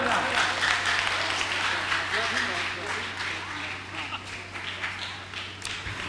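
An audience applauds at a mushaira, a Hindi-Urdu poetry gathering, with a constant low hum running beneath the clapping while people speak over it.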